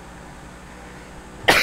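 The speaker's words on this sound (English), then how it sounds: "I'm sorry guys, I'm coughing." A single sharp cough from someone with a cold bursts out at the very end after quiet, close and loud, with no talk over it.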